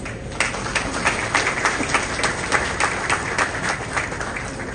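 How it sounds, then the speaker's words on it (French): A ceremony crowd at a ministry's inauguration of new premises claps for the technical and administrative teams. The close, dense applause settles into a loosely rhythmic pulse of hand claps that carries steadily throughout. "Un petit applaudissement pour eux."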